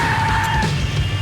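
Car tyres skidding as the vehicle pulls away in a realistic shooter video game, a short, fairly loud screech with an engine rumble beneath it.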